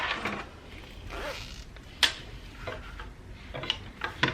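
A zipper for a vinyl crossbody bag is handled and pulled in a sewing setup, giving soft scratchy rasps with a few brighter clicking ticks from the zipper teeth, close and quiet.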